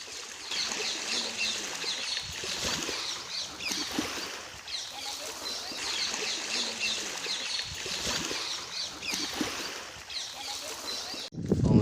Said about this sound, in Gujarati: તમે સાંભળી જો દરિયાનો અવાજ, એટલું શાંત વાતાવરણ છે અહીંયા